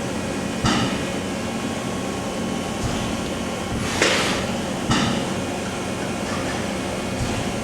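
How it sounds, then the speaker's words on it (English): Automatic tool changer on a Matsuura ES-550PC2 vertical machining center with a BT40 spindle and 30-tool magazine, cycling through a tool change: sharp metallic clunks at irregular intervals over a steady mechanical hum, close by, no talking. "simulating a tool change."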